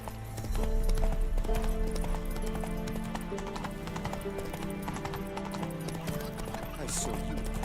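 Roach, Geralt's horse in The Witcher 3, gallops with steady rhythmic hoofbeats over a dense layer of game music and ambience, staying fairly loud and continuous throughout.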